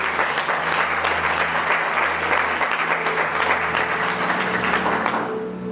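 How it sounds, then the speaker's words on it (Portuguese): Church congregation applauding during a worship service, a full, continuous burst of many hands clapping with a low hum beneath, holding strong before fading out near the end. "Pode aplaudir o Senhor"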